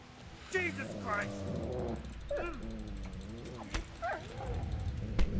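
A dog in a video game lets out high yips and whimpering barks in short bursts, with a person talking over it.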